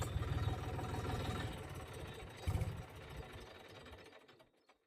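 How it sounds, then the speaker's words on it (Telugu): A tractor's engine runs steadily up close, with a rough, throbbing rumble that gradually fades and dies away at the end, after the tractor is brought out following a front tyre puncture repair. "చాలా రోజుల తర్వాత బయట తీసిన బ్రో మన ట్రాక్టర్."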